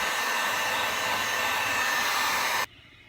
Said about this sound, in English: I'm using a cheap heat gun.